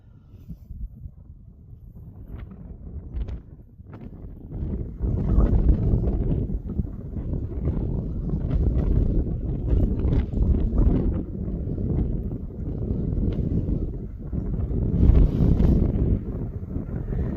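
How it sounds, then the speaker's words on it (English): Strong wind on the side of Parlick Hill in Lancashire buffets the microphone with a deep, rumbling roar that swells after the first few seconds and stays heavy in uneven gusts. "It is quite windy on the side of this hill."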